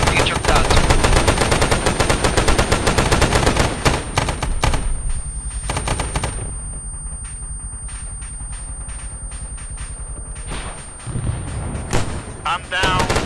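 Rapid automatic gunfire in the Arma 3 Vietnam mission, dense loud bursts at first that thin into scattered shots and distant volleys, with brief bits of talk.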